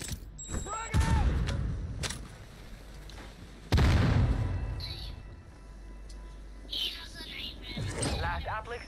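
Frag grenade going off in a squad shooter game: a couple of heavy booms and sharp bangs mixed with gunfire and radio chatter, with voices speaking between blasts.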